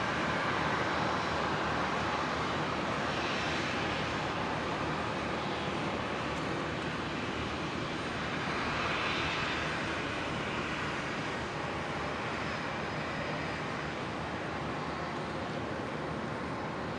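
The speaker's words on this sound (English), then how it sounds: "Virgin 375 service to Townsville, 737-800. Just lining up." Virgin Australia Boeing 737-800 lining up on runway 19 right at Brisbane International Airport, some 3 km away: a steady, distant jet engine rumble and whine that holds evenly throughout with no talk.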